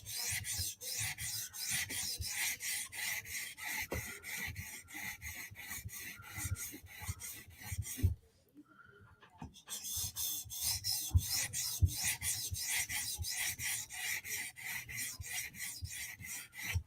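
Vero Synapse and Berg knife blades are being sharpened. Steady, rhythmic rasping strokes repeat closely and evenly, pause for about a second, then resume at the same pace.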